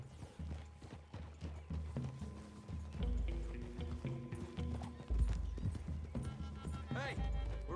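Horse hooves clip-clop through a Red Dead Redemption 2 game scene, steady and fairly close, with a horse whinny near the end, while characters talk over the riding.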